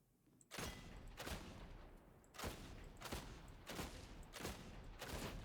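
A shotgun fires in the Warhammer 40K: Darktide video game: about six booming blasts, roughly one per second with a short pause midway, each with a decaying tail, heard quietly and without talk.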